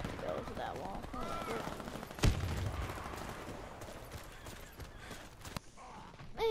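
A single sharp sniper shot cracks out loudly in the Warface shooter game, standing above a busy backdrop of quieter in-game gunfire and movement.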